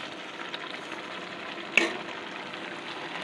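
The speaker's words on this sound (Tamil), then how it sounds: "நெய், பால் பவுட்ரு, ஏலக்காய் பவுடர் எல்லாமே ஒன்றா சேர்ந்து இப்போ கலக்க போகிறோம்" Ghee, milk powder and cardamom powder are stirred into ash gourd halwa in a pan, giving a soft steady sizzle with one sharper scrape or clink midway.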